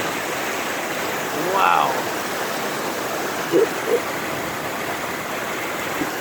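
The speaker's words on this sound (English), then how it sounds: "It's raining so hard." Heavy rain with hail pours down in Bogota, Colombia, a loud continuous broadband rush of water with no break, while a voice briefly exclaims over it and a couple of short knocks stand out.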